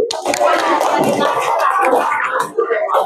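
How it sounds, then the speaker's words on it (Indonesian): Classroom applause for a student group, a lively burst of many hands clapping close by, mixed with a few excited voices, holding steady for about three seconds. "tepuk tangan buat kelompok 7"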